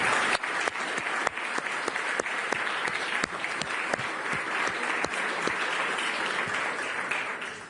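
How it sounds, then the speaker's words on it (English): Conference audience applauding at the ECB Forum in Sintra, a full, even round of clapping with a few sharper individual claps standing out, sustained throughout with no speech. "I would like to ask you, yet again, to applause"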